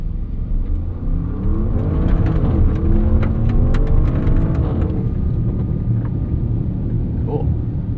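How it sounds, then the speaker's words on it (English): Bentley Bentayga Speed twin-turbo V8 SUV pulls away hard on a muddy gravel surface, engine note rising steadily over several seconds under constant wind and road rumble, then settling into a steady cruise. "So I'm gonna start off here with an acceleration, and we'll go from there."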